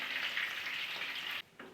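Eggplant slices fry in hot mustard oil, two at a time, with a steady bright sizzle that holds evenly close by, then cuts off briefly and resumes as the pan is disturbed.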